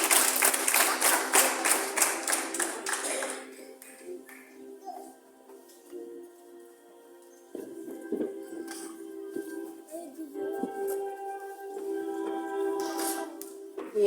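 A group of young children at an early childhood centre in Nyanza claps together in a brisk burst of applause that fades after a few seconds, followed by quieter room sounds and faint voices.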